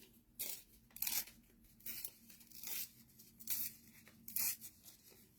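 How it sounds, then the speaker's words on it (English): Paper is torn by hand in a series of short ripping bursts, about eight separate tears in uneven rhythm, close and clear against a quiet background. "I think I'm going to tear it out"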